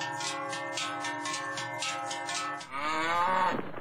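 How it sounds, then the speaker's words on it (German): Dairy cows in the Appenzell hills lowing loudly over a dense, continuous jangle of many cowbells, the bells ringing steadily throughout and a drawn-out moo rising near the end, close and unaccompanied by talk. "normalerweise tragen die Kühe die Glocken"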